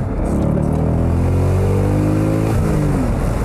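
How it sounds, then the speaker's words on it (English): A sports car engine roars as it accelerates, loud and close, with rising harmonic tones that climb steadily through the run, then drop and climb again near the end, with no voices. "he always compares the noise of the motor to a bellowing grizzly bear that's mad about something"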